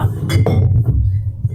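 A glass cocktail mixing jar is picked up with a couple of quick, close clinks early on, followed by faint handling noise over a low background hum.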